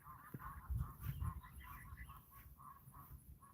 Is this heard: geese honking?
yes